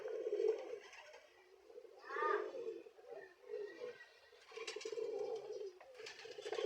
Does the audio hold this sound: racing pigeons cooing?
yes